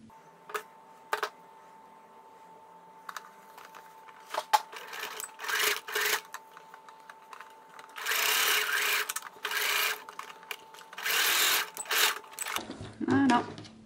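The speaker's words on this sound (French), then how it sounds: "on ferme le petit trou avec une surpiqûre à 2 mm" A sewing machine topstitches 2 mm from the edge of terry cloth, running in short bursts, then longer steady runs of rapid mechanical stitching, close and fairly quiet, with faint handling noises between runs.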